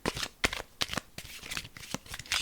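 A deck of cards is shuffled up close in a quiet room, a run of quick riffling bursts and soft slaps over a few seconds.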